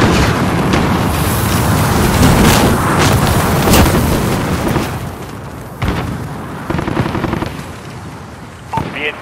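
White phosphorus airstrike in the video game Call of Duty Modern Warfare, with loud, sustained rumbling explosions and crackling bursts rolling on for several seconds before thinning into scattered booms.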